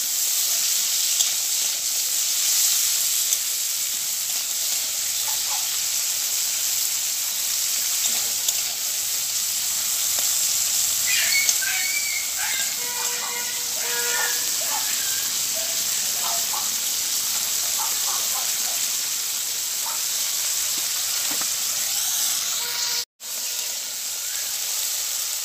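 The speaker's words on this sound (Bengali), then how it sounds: "এবার আমি কাঁকড়াগুলোকে উল্টে পাল্টে ভালো করে ভেজে নেব।" Crabs sizzle steadily as they are turned and fried in a pan, a continuous close frying hiss with faint clinks and scraping of utensils partway through.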